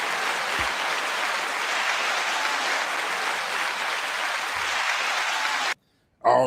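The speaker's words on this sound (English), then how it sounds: "9 second applause to everybody so far" A show audience gives sustained applause, steady broadband clapping that holds at an even level for nearly six seconds and then cuts off abruptly.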